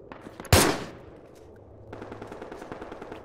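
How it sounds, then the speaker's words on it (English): A single sharp gunshot burst cracks out loudly in a military shooter video game, then a rattling ring of fire and rumble trails off beneath faint ambient noise. "I'm shooting at the enemy."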